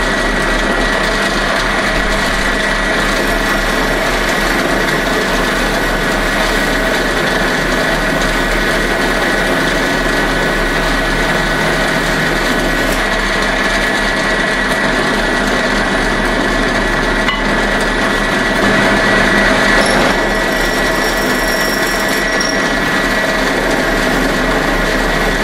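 Power tool drilling lanyard pinholes in a handmade knife, a steady high whine that runs unbroken for the whole stretch at close range, with no talk.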